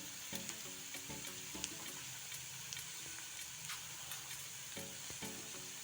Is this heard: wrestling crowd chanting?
no